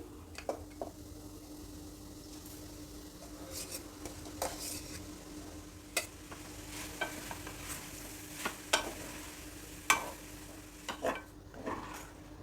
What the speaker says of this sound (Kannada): ಈಗ ರೆಡಿ ಮಾಡಿ ಇಟ್ಕೊಂಡಿರೋ ಅನ್ನನ ಸೇರಿಸ್ತಾ ಇದ್ದೀನಿ